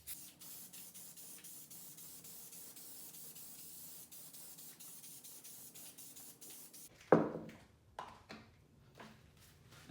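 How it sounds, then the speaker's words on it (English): A long continuous hiss of spray adhesive from an aerosol can, close up, stopping after several seconds, followed by a few handling knocks and rustles. "You start spraying the spray adhesive on."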